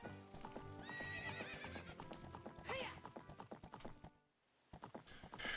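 Epona, the horse in the video game Ocarina of Time, gallops with quick clip-clop hoofbeats, and a whinny rises over them partway through. The hoofbeats pause briefly, then start again.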